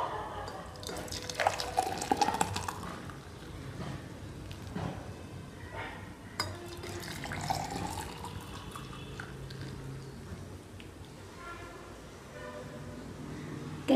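Almond milk pours and trickles into a vessel with soft splashes and drips, quiet and close, over a low background hum.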